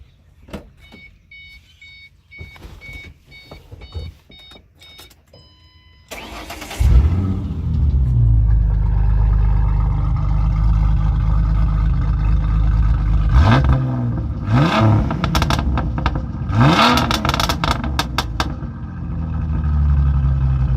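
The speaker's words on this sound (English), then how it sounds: "I'll actually go ahead and start it up and let you listen to the good old V6 sound" A V6 car engine cranks and catches, then settles into a loud steady idle with several sharp revs near the end, heard close up after a few seconds of quiet shop noise.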